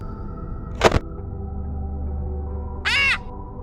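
A pirate's parrot in the video game Ultimate Custom Night squawks twice, one sharp cry early and a longer harsh caw near the end, both loud over a low steady background hum.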